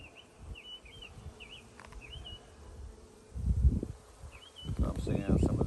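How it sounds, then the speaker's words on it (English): Honey bees buzzing around an open hive in an apiary, a close, wavering drone with individual bees flying past, plus bursts of handling rustle and bumps. "I hate when I stir these bees up."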